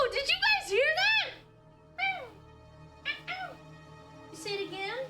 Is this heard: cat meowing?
yes